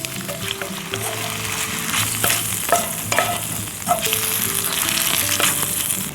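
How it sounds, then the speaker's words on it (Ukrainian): Marinated chicken frying in a pan over a fire, a loud close sizzle with repeated spatula scrapes and clatters as the pieces are stirred. "Першою закидуємо нашу курочку мариновану. Помішуємо."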